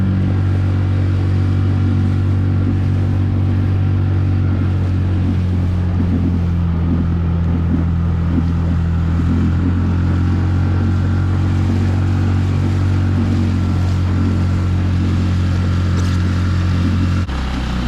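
A Sea Eagle PaddleSki 437ps motorized kayak running at full speed on the water, about 15 to 16 mph, gives a loud, steady motor drone mixed with wind rush that holds throughout and drops off abruptly at the very end.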